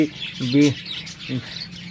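Pet budgerigars chirping nearby in a few short, bright calls, with brief pauses between them against a quiet indoor background.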